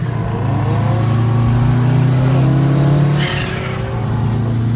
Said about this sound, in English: ZL1's heating his tires up.